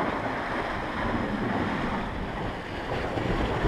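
Heavy surf churns along a rocky Norwegian coastline, a continuous loud roar of crashing waves mixed with gusting wind buffeting the microphone, with no voices.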